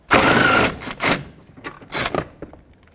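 Ratchet spinning a T50 bolt out of the rear door latch area of a 2008-2010 Ford F-250 extended cab, a loud close burst of clicking followed by a few shorter ratcheting bursts.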